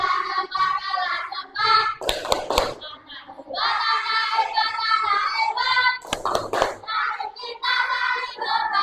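Class 4 pupils perform a rhythmic class clap, with bursts of sharp group clapping set between loud chanting voices of children in a classroom.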